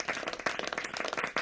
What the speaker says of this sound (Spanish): ahora ya hay demasiados aplausos